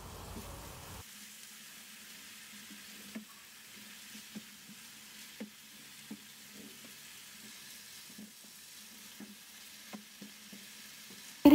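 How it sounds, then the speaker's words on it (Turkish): Zucchini and minced meat frying in a pan, a quiet steady sizzle broken by faint intermittent ticks and stirring scrapes, with no one talking. "Bir tabak dolusu kabak işi ekliyorum ve birlikte kavurma işlemine devam ediyorum"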